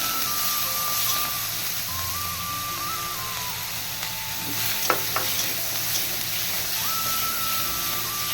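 Fish frying in hot oil in a home kitchen for a Bengali fish curry, a low, steady sizzle with a faint background beeping tone and a couple of brief clinks.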